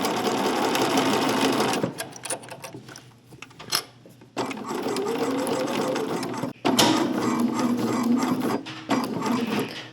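A sewing machine stitches a seam while sewing a Simplicity 8926 pattern, running in loud, close bursts of rapid mechanical chatter separated by short pauses as the needle stops to turn at corners.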